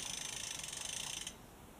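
A bicycle chain being turned while oiled clicks in a fast, steady ratcheting rhythm close by, then stops abruptly, leaving a faint hiss.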